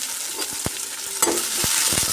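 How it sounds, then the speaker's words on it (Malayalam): Thinly sliced onions frying in a pan for a Kerala-style chicken biryani, a steady close sizzle with a few sharp scraping stirs of a spoon cutting through, no voices. "നേരത്തെ കനം കുറച്ച് അരിഞ്ഞ് വെച്ച സവാള ഇട്ട് കൊടുക്കാം."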